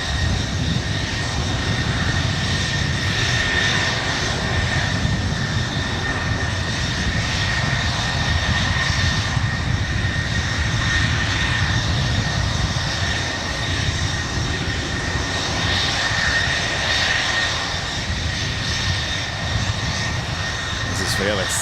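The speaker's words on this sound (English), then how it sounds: "We have a Sky West CRJ over here. Being loud over here in the corner." SkyWest CRJ jet engines run loudly and steadily at San Francisco International, a constant whining roar with high tonal hum holding for the whole stretch, voices faintly underneath.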